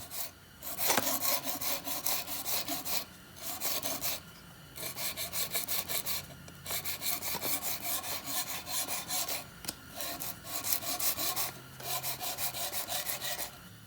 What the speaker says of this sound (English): I'm going to sharpen this now.